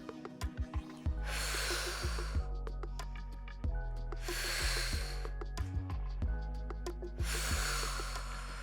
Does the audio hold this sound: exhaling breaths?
yes